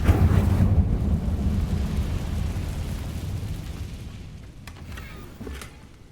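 A fire spell called Incendio is cast in a video game, bursting out as a loud, deep rumbling roar that slowly fades over several seconds, with a few faint crackles near the end.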